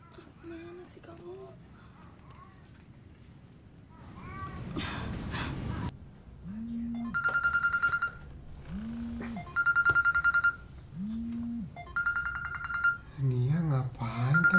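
A telephone call rings out with a ringback tone: evenly spaced, moderately loud electronic pulses repeat several times, preceded by brief voice sounds and low noise.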